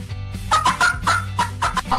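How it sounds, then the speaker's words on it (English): A hen clucks in a quick run of short, throaty calls, close and clear with a brief pause partway through, no voices over it. "Hen."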